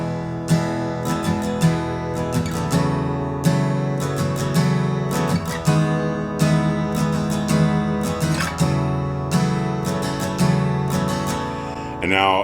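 Guitar plays the intro to a song, a busy picked and strummed chord passage with crisp repeated attacks and ringing sustain, close and clear for about twelve seconds with no talking.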